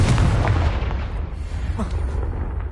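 A Confringo fire-blast spell in the video game Hogwarts Legacy erupts as a loud, close, deep booming explosion that rumbles and slowly fades over a couple of seconds.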